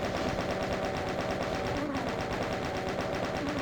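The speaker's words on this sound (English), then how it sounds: "so let's chain gun." The chaingun in the video game DOOM fires continuously, a dense rapid rattle running steadily through the whole stretch with game noise behind it.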